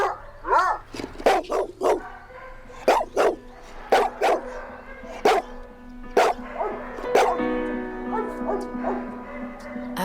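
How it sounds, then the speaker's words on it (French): A dog barks loudly and repeatedly, in sharp, full-throated barks spaced a second or so apart, close by, with whimpers and yips between them and no one speaking. "Aboyer à gorge déployée, c'est sa façon de nous parler."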